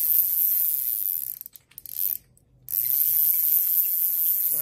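A size 1000 Japanese-made Ryobi spinning fishing reel is cranked, giving a steady, close mechanical whir with fine ratchet clicking that pauses briefly twice before resuming.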